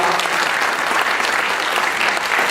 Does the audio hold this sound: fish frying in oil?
no